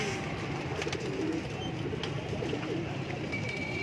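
Pigeons cooing in a breeding loft in Lahore, soft low coos repeating over a steady background hum, no voices.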